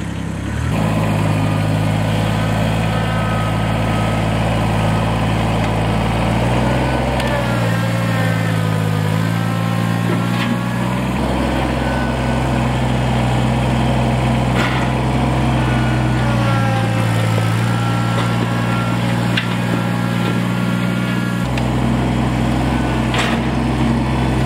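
A small tractor engine runs steadily nearby, its low rumble dipping and rising in pitch a couple of times as the load changes.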